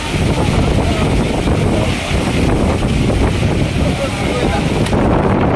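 Strong gusting wind roars without pause through a sudden downpour in Manila, a dense, loud rush that buffets the microphone for the whole stretch.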